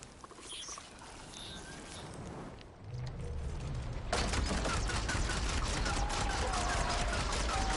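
A machine gun in the video game Horizon Forbidden West fires in a rapid, dense stream of shots that runs continuously for several seconds over game noise.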